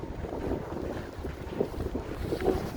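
Wind buffets a handheld microphone while walking outdoors in a snowstorm on a downtown Chicago street, producing a constant low rumbling roar with gusty swells and no speech.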